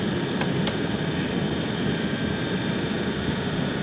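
Aircraft engines roar steadily at high power during a takeoff roll, a dense broad wash of engine and airflow noise with a couple of sharp clicks early on, heard from inside the aircraft without talk.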